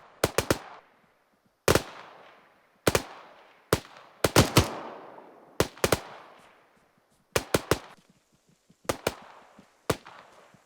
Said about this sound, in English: Delta Fire Team continue with suppressive fire